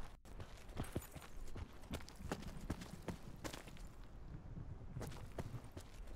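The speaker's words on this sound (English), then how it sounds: "Hate it when my footsteps change and I all of a sudden hear two separate footstep sounds." Footsteps from a Black Ops multiplayer match, a steady run of clopping, hoof-like steps close by that sound doubled, played alone with no talk.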